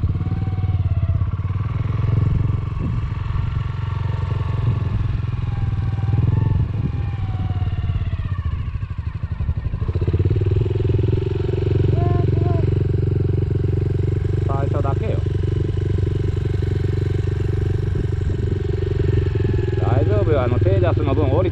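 A motorcycle engine runs continuously with a steady mid-pitched drone and a slight shift in tone partway through, while someone talks over it at length.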